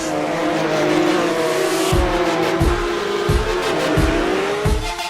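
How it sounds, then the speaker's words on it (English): Porsche race cars in a sim-racing esports Supercup sprint race start at Circuit Gilles Villeneuve, engines droning loudly together with rising revs, while repeated low thumps pulse through the roar. "the revs rise, away we go for the sprint race here at Circuit de Gilles Villeneuve"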